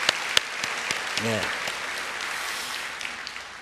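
A church congregation claps in praise to God during a worship service, a steady wash of applause with a few sharper close claps, and a brief spoken word from a man partway through.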